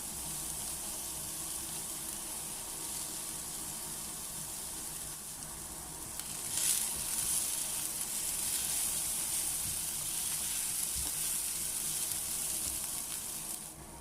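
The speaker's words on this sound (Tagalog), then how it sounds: "ituloy lamang po natin ang ating paggisa" Siopao filling sautéing in a pan, a steady broadband sizzle throughout with a brief louder surge of frying midway, close and continuous with no talking.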